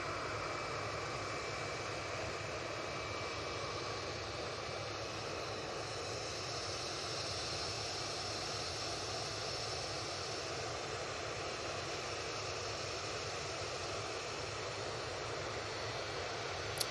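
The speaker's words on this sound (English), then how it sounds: "So, this Ryanair 737-800 with split scimitars, this is going off to Trapani." A Ryanair Boeing 737-800 jet with split scimitar winglets at Manchester Airport, its engines producing a steady, distant broadband roar that holds evenly throughout with no voices.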